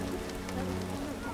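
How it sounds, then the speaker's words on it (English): Steady rain falls in The Witcher video game, a continuous even hiss of drops on surfaces with low ambient hum underneath, holding at a constant level throughout. "It's raining."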